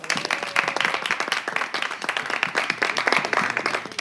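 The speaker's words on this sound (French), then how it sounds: "On va l'applaudir aussi." Audience applause for Madame Della on a French talk show, steady dense clapping from many hands held at a constant level for several seconds, no voices over it.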